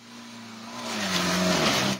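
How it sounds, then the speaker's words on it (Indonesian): A bus engine labours up a steep, subsiding hill at Tanjakan Purut in Cianjur, West Java, a steady loud drone that rises in pitch and strain over two seconds before cutting off. "Seperti ini detik-detik saat bus memaksa melintasi tanjakan Purut"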